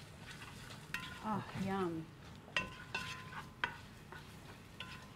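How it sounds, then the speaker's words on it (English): Garlic and pepper fry softly in a pan while being stirred, with a faint sizzle under a few scraping strokes and light utensil taps; a voice briefly murmurs approval. "you just want to give that a bit of a stir, don't you?"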